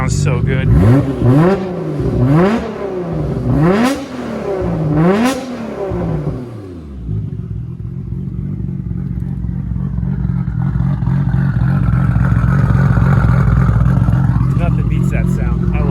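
Nissan R32 GT-R with a titanium exhaust revs hard several times in quick succession, loud and close, then settles into a steady throaty idle.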